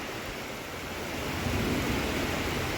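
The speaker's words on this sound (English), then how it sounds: "It is pouring." Heavy rain pours down steadily, a dense broadband hiss that grows slightly louder partway through, heard near a garage where a plow truck is getting a 5-inch lift kit.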